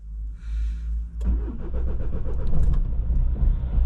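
Car with a weak battery starting on a cold morning: a sluggish cranking whir under blower noise, then the engine catches at about a second and settles into a loud, close, rough idle.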